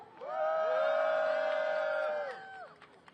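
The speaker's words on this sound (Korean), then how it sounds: "큰 환호로 함께해 주십시오." A protest crowd at a rally against the APEC summit cheers in one sustained, loud, tonal roar of voices. It swells quickly, holds steady for about two seconds and then tails off into a few scattered calls.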